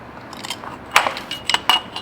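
A knife makes several repeated passes through a stack of layers, giving short, close, crisp scraping ticks in a quick irregular rhythm.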